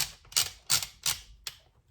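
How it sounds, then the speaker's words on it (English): A gun cleaning rod end cap being twisted on gives a series of sharp, close clicks, about five distinct ratchet-like snaps in quick, uneven rhythm, with no talking. "twist that on. It's going to start clicking."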